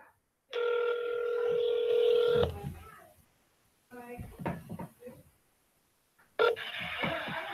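Telephone keypad tones sound as a long steady beep, then a cluster of shorter tones and clicks, then another tone starting near the end, close up with handling noise and no speech.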